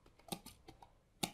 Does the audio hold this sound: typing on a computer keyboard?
yes